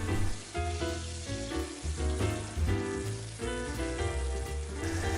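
A pistachio-crusted rack of lamb sears in very hot oil in a pan. A constant crackling sizzle runs under background music.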